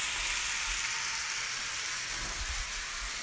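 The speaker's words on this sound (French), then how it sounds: "on fait fondre un petit peu de beurre." Steady, dense sizzling and hiss of butter melting in a hot pan, continuous and fairly close, with faint low thumps of cookware underneath.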